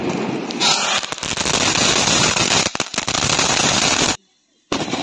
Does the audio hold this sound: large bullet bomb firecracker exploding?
yes